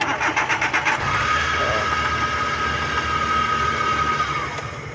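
A Suzuki Multicab mini truck engine cranks with rapid starter pulses, then catches and settles into a steady close idle with a faint whine above it.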